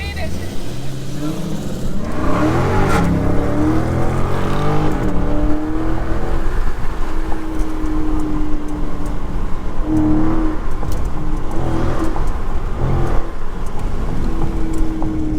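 Steady roaring rush of air buffeting past an open window of a 2023 Dodge Charger Scat Pack, with engine drone underneath and someone talking over it throughout, in traffic.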